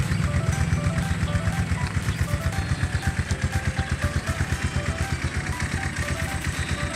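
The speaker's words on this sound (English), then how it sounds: "the sound of the engine is improving day by day" A Rusi Gamma 200cc motorcycle engine runs steadily close by, its even rhythmic pulsing and faint mechanical clatter continuing alone for several seconds, quieter and smoother after ten months of use.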